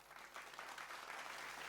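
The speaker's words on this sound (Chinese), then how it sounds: "我们给他一个掌声" An audience at a company awards ceremony in a stadium applauds a winning team, steady dense clapping throughout, faint and distant, with no talk.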